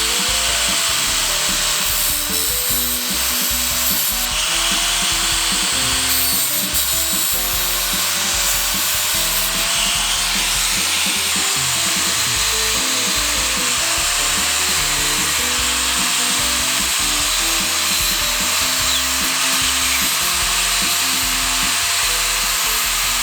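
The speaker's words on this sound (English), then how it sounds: "start cutting into this shroud and work out how the plug's going to fit" Cutting into a plastic light shroud mount for JDM police car lights, a harsh continuous rasping and whirring that holds steady throughout, close by and loud with no talking.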